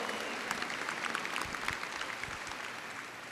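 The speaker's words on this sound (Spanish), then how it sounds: "Dale un aplauso al Señor si tú estás seguro y crees en esta verdad" A church congregation claps together in a steady, dense round of applause, with a few sharper claps and some faint crowd murmur underneath.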